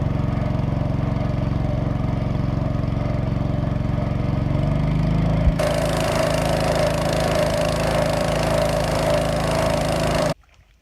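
A motor runs steadily and loudly on a boat loaded with ten sacks of sand, shifting in tone partway through before cutting off at the end.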